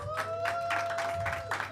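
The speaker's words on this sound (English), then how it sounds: "Give her a round of applause." A small audience at a content creators' workshop in a Dubai media studio gives a brief round of scattered claps over a steady electronic hum, moderately loud and close.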